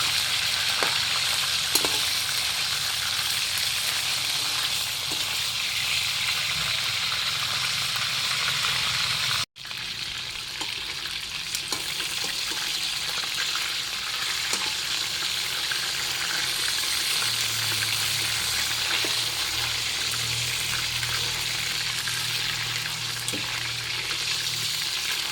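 Chicken sautés in a hot pan for a dinner dish, giving a steady, close sizzle and hiss with occasional stirring scrapes and one brief dropout partway through, and no talking.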